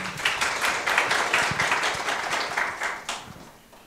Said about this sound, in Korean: 크래프트링크 발표 마치고 박수 부탁드리겠습니다.